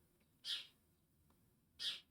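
A pet bird gives two short, sharp calls indoors, about 1.3 seconds apart. The room is otherwise quiet.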